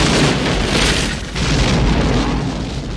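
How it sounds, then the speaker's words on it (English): A Bad Boys action-movie explosion erupts as a loud, rumbling boom that swells, dips briefly, then surges again with a dense, roaring blast that lasts about three seconds. "explosions."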